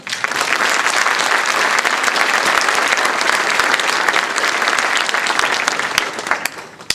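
A school concert audience claps in a dense, sustained round of applause for honored all-state band members, holding steady and then tapering off near the end, with no talk over it.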